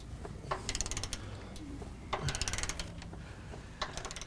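Ratchet wrench tightening a track bar bolt through the frame of a 1998.5 Dodge 24-valve 4WD diesel truck, heard as quick runs of close metallic clicks in several bursts separated by short pauses.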